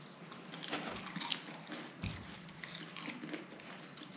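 Someone bites and chews Sibylla french fries up close, with a few soft crunchy bites and moist mouth sounds, quiet and irregular.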